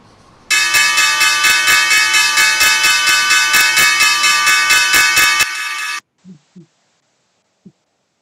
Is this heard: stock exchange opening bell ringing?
yes